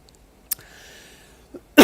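A couple of short coughs break a near-silent stretch, the last one loud and close.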